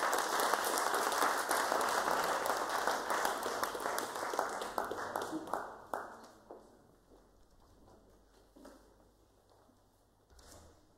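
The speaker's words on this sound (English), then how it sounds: "please give a round of applause for Reed Taylor." Audience applause for a performer at a foyer live event, dense clapping for about six seconds that thins into scattered claps and fades out.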